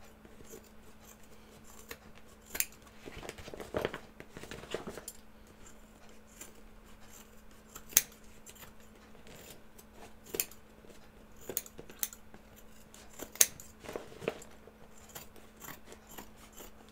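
Scissors trimming a fabric edge at a sewing table: intermittent soft snips and rustling cloth, with a few sharper clicks spread across a quiet background hum.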